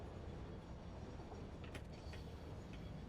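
A train rolls along in the video game Satisfactory with a faint, steady rumble and a few brief clicks and clatters.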